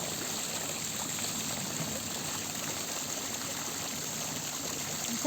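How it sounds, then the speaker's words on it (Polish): Rushing water pours in a continuous, even hiss, fairly quiet and steady throughout, with no voices over it. "Teraz można posiedzieć jak i pomedytować przy szumie wody."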